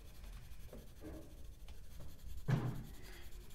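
A colored pencil scratches softly across paper in light repeated shading strokes, quiet and close, with one slightly louder stroke partway through.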